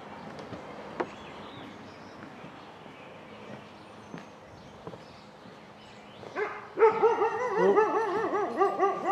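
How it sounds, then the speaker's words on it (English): A neighbor's dog barks and yips from a nearby backyard, starting faint and sparse and then turning into a louder run of rapid whining yelps toward the end. "The neighbor's dog."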